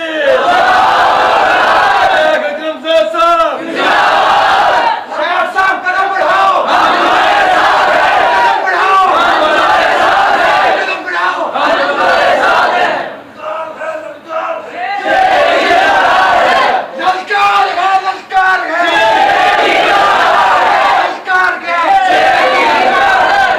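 A large crowd at a religious gathering for a Milad-un-Nabi lecture shouts Allahu Akbar in loud, repeated unison bursts, with brief quieter gaps between the chants.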